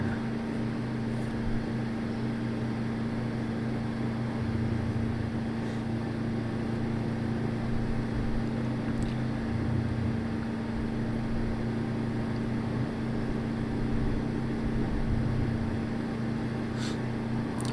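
A motorcycle on a town ride drones steadily with a constant engine note and wind rush as it speeds up to 30 mph, loud and close with no speech.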